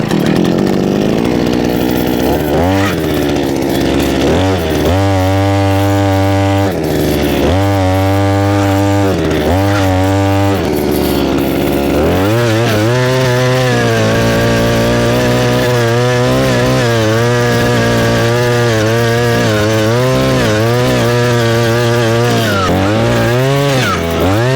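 A gasoline-powered earth auger is pulled to start, then drills a post hole for a mailbox, its small two-stroke engine revving loud and close in repeated surges before settling into a steady, continuous drone.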